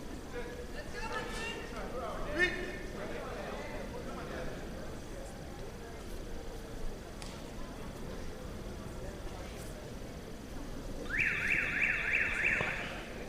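An electronic buzzer ends a judo match at a national elite tournament, sounding as a loud, steady pulsing tone for about two seconds near the end over crowd noise and commentators talking.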